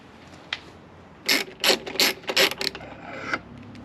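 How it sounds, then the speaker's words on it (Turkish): A ratchet with a 10 mm socket works a screw loose during a heated grip install on a Honda Forza 250 scooter, clicking loudly and close in a quick series of ratcheting strokes. "10 numara lokmayla bunu sökeceğim"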